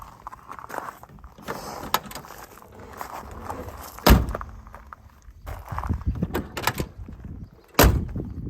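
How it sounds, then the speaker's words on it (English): Solid door shuts on a 1967 Ford Mustang Fastback, two sharp loud thunks a few seconds apart, close by amid quiet shuffling and handling noise. "Door shut's nice."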